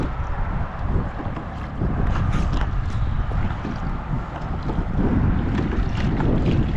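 Steady, gusting wind buffets the air over open water beside a small fishing boat near a bridge, a continuous rushing roar with no talking.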